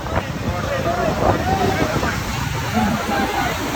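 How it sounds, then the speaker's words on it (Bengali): Rough sea surf at Cox's Bazar beach roars steadily with constant wind buffeting the microphone, a dense wash of breaking waves under faint voices. "সবদিকে চারিদিকে উতাল পাতাল ঢেউ"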